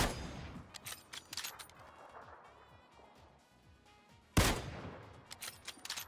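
Video game gunfire comes in scattered bursts of shots during a war-mode match, with a loud, sharp crack near the end standing out above the other shots.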